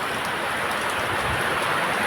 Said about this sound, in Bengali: দেখো বাইরে কত বৃষ্টি